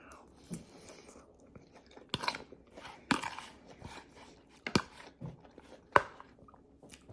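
Crunchy tortilla chips are bitten and chewed at dinner, with sharp, close crunches every second or so amid quiet mouth sounds.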